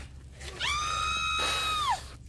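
A scream sound effect plays from a phone speaker, a single sustained thin electronic shriek lasting over a second with a falling tail, heard alone in a quiet room.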